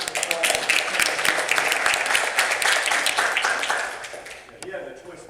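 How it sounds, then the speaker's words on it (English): An audience gives a big round of applause to welcome a speaker, loud sustained clapping for about four seconds that then fades into a quieter room tail. "Give him a big round of applause."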